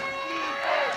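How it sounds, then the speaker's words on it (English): Spectators at a high school football game, Woodstock against Windsor, cheer for the Yellow Jackets: a sustained, fairly loud crowd roar that swells slightly near the end of a brief moment. "Crowd trying to get behind the Yellow Jackets"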